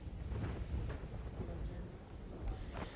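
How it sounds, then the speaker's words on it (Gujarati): Heavy monsoon rain in Dwarka falls as a steady, dense roar with low rumbling wind buffeting, loud and continuous throughout without a clear break. "સમગ્ર પંથકમાં હાલ વરસાદ જામેલો જોવા મળી રહ્યો છે"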